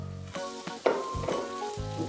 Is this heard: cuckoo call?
no